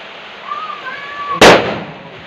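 A single Diwali firecracker bursts with one sharp, loud bang after a thin hiss, up close and outdoors, followed by a short fading tail.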